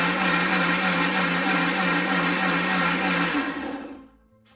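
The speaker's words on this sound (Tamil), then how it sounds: "சேர்த்துட்டு நல்லா மிக்சி ஜாரில் நைஸாக அரைச்சி எடுத்துகிட்டு வந்துடுவோம்" A mixer grinder jar runs steadily, grinding semolina with cardamom and a pinch of salt into a fine powder, a loud continuous whirring drone that winds down and stops near the end.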